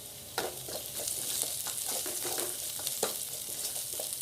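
Masala with chopped green chili fries in a pan for roadside-style mushroom, a steady close sizzle punctuated by sharp spatula scrapes and taps as it is stirred in an uneven rhythm.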